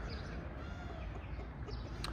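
Chickens cluck in a domestic coop, a few soft, close calls that come over a steady background hum.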